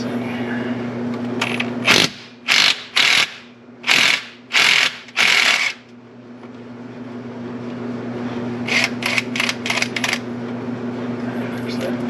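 Ratchet wrench clicking on a nut at the yoke of a CJ5 Jeep during seal replacement, with several loud bursts of rapid clicks, a pause, then a quicker run of short clicks over a steady background hum.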